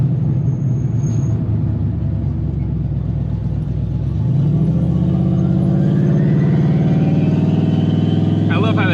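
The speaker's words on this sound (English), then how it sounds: "the sound of that turbo spooling." A turbocharged Ford Mustang with a big stall converter driving through the city, engine rumbling and then building into a rising turbo spool whine that climbs steadily toward the end, loud and close.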